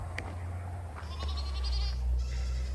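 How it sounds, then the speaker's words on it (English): Goats grazing outdoors on a farm let out a few short bleats, fairly close and moderately loud over a low steady hum of background noise. "all the goats are out right now grazing"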